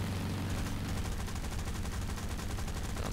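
Aircraft machine guns firing in the War Thunder combat game, a dense unbroken burst of rapid shots that runs the whole time under the roar of the plane, loud and close with no voices.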